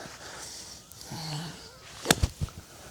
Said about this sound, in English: that's the sound of the bounce slapping the sand